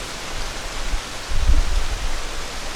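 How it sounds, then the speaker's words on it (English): Steady outdoor rain falls as an even wash of hiss, fairly loud and continuous, with a brief heavier swell of low rumble midway. "it's raining."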